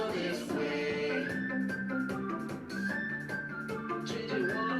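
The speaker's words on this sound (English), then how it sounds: "Now whistle this way." Whistling follows the melody of a cheerful children's song, a thin sustained tone that slides between notes above the backing music, moderately loud throughout.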